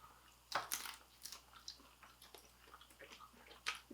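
Someone chewing a crunchy Bibigo dumpling, with soft irregular crunching bites and mouth sounds close up, quiet overall with a few sharper crunches standing out.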